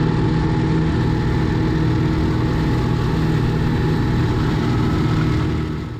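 A tractor runs a 1.5 metre flail mower that is heavy for it, giving a loud, steady low engine drone with a constant mechanical rumble that eases slightly at the very end.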